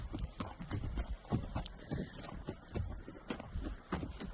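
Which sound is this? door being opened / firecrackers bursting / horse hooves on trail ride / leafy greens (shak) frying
horse hooves on trail ride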